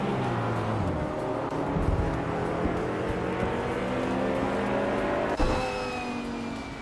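Race cars in a racing video game, among them a 2014 Lamborghini Asterion, roar loudly in a continuous engine drone with rising and falling revs as several cars run close together, and a brief sharper burst cuts through near the end.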